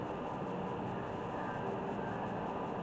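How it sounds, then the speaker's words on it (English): A steady, broad roar of passing traffic from a busy highway outside, constant and fairly quiet, with no distinct individual vehicles standing out. "sorry about the noise outside, I'm right beside a busy highway"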